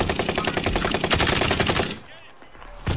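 Rapid, evenly spaced machine-gun fire in a video game for about two seconds, loud and close, then dropping to a brief quiet stretch before another burst begins.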